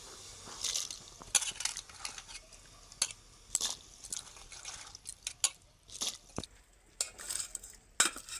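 Cauliflower is rinsed and dropped into a pot of warm water, with soft splashes, liquid sloshing and scattered sharp clinks of utensils against the pot at close range.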